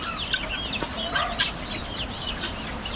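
Guinea fowl give repeated harsh, chattering calls, several overlapping at moderate distance, with no talking.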